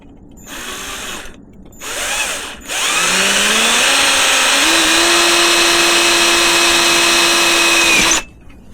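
A power drill bores holes into a bicycle frame for rivnut installation, with two short whirring bursts and then a long steady high-pitched drilling run that rises in pitch before stopping abruptly, loud and close.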